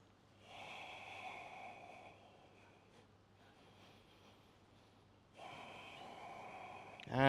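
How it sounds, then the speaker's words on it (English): Slow, deep breaths during a yoga flow: a long audible inhale through the nose, a quieter pause, then another strong breath, close and soft, with a brief bump at the very end. "Taking a couple of deep breaths at the top."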